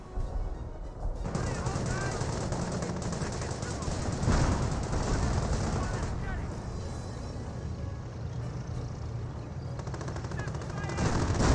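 Artillery barrage and gunfire in the Company of Heroes strategy game, a dense rumbling wash of distant blasts and rattling shots under continuous commentary.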